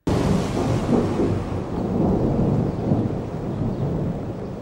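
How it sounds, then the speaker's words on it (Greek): Rolling thunder from distant lightning strikes in a summer storm rumbles continuously and loudly, a deep sustained roar mixed with rain, with no voices. "οι κρόντες από κεραυνούς που έπεφταν σε άλλες περιοχές ακούγονταν μέχρι και την Αχαϊκή πρωτεύουσα"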